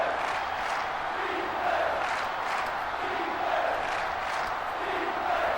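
Stadium crowd noise from an FCS college football game in NCAA Football 06, Cal Poly Mustangs at San Diego, a steady loud roar of cheering that swells slightly in waves throughout.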